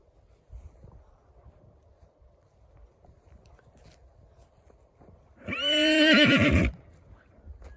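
A pregnant mare whinnies once, loud and close, a shaky neigh lasting about a second after quiet outdoor rustling and a few soft thumps.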